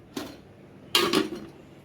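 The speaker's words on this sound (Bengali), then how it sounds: "এই কড়াই এখন বসাতে হবে" A metal kadai wok is handled and set down: a light clank comes first, then a louder double clatter of metal a moment later, close by and with no talking.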